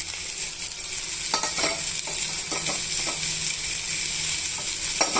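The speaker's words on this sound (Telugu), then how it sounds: "ఇప్పుడు ఈ దొండకాయ ముక్కల్ని ఈ పోపులోకి వేసేసుకోవాలండి" Round-cut ivy gourd slices hit hot oil tempering and are stirred, giving a steady close sizzle with intermittent scraping and clinking of a spoon against the pan, no voices.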